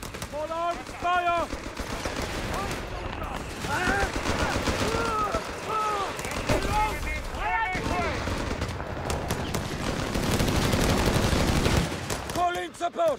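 Infantry gunfire rattles through a Company of Heroes 3 battle, with repeated machine-gun bursts and rifle shots, dense and loud. Shouted voices come in over the shooting.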